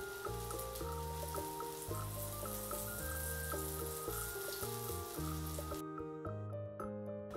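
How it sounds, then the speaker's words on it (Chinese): A chilled, overnight-fermented egg and meat patty topped with chopped scallion fries in a pan, a steady sizzling hiss running under loud background music before falling away near the end. "直接放到锅里煎就好了"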